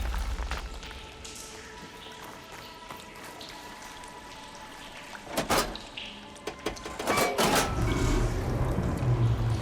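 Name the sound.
water flowing in video game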